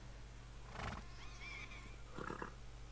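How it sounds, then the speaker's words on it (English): A horse neighs in Kingdom Come Deliverance 2, a medieval video game. The whinny comes as one short mid-loud call with a second burst near the end, over a steady low game-ambience hum, with no talk. "I'll get the horse ready for you and teach you to call him over"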